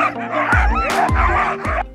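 Husky sled dogs at a kennel bark and yip in close, loud bursts, with about four sharp barks over a couple of seconds and whining between them.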